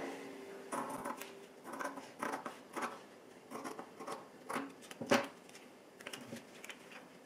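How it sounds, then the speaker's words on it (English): Scissors snip through cotton fabric while a fitted face mask pattern is cut out, a close, quiet series of crisp irregular cuts and rustles with no talking. "Cut the rest of your pattern."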